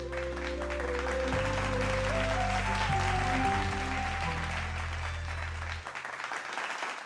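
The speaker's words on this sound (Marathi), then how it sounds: "टाळ्या." Steady applause from an audience at a stage function in Pune where a new collector is about to speak, heard under sustained music chords that fade out near the end.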